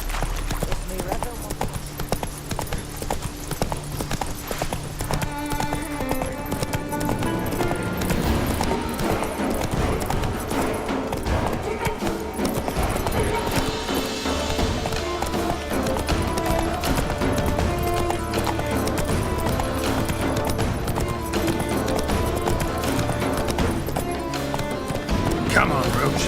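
Hooves clip-clop steadily as a horse gallops in the video game The Witcher 3, under game music and a dense, continuous soundscape, with a neigh heard along the way.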